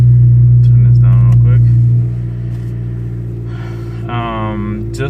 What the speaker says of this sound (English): Just with the cold start, it revs high.